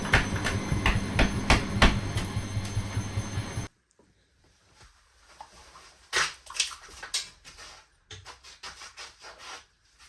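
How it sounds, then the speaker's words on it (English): A scraper chipping at overfilled dried filler on a garage wall, giving sharp, irregular scraping and knocking strokes in short bursts, loud and close at first, then quieter and sparser. "I'm using a scraper to try and chip it flat before sanding."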